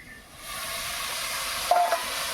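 Water splashed into a hot pan of poha being cooked with chopped chilli, giving a steady hissing sizzle that swells after the first half second, with a couple of brief louder spits near the end.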